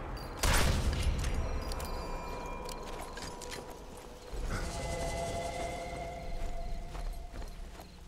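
A sharp burst of gunfire in Sniper Elite 4 opens, followed by a steady rumble and scattered shots; a horse-like clatter and whinny mix into the busy game soundscape.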